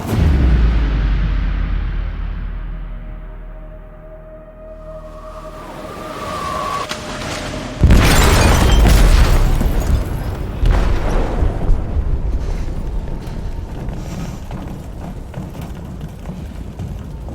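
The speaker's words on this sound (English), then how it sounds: "They detonated an explosive in the hold." A loud explosion tears through a ship's hold in the video game Detroit: Become Human: a sharp, broadband blast arrives mid-clip and rolls into sustained low rumbling and debris noise over a continuous heavy background drone.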